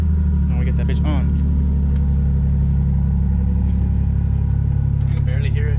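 A car engine idles steadily after being started, a constant low rumble close to the microphone, with someone talking over it.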